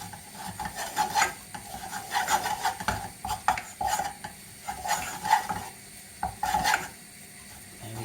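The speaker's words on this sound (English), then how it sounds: "Mix that so it becomes a nice paste." Tomato puree being stirred into a thick paste for a fish pie sauce, with soft rasping scrapes of a utensil against the pan. They come in uneven bursts, fairly quiet and close, with no talking.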